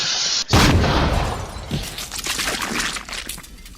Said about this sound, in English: are suspected of using a firework to blow up a porta potty near a lake in Nebraska